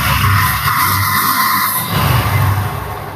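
A second-hand Yamaha FZ V2 motorcycle engine revs loudly and close, a steady roar that shifts pitch partway through, with no talk over it.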